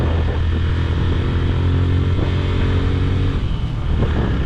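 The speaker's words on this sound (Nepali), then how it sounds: "यहाँ स्कुटरले डबल लोड तानै रहेछ" A scooter carrying two riders climbs uphill on a narrow mountain road, its engine droning loud and close with a steady strained hum and slight shifts in pitch, and no voices.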